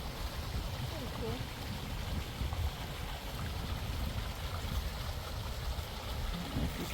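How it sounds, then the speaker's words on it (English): Storm-swollen stream rushing below a pond outlet, a steady broadband wash of flowing water heard from a short distance, with people talking quietly over it. "And there's a lot of water flowing"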